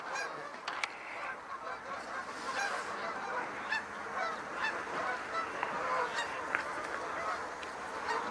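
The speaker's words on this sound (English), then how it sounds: "It's a goose." A goose a little smaller than a Canada goose honks repeatedly outdoors. Several goose calls overlap in a busy, continuous chorus over steady background noise.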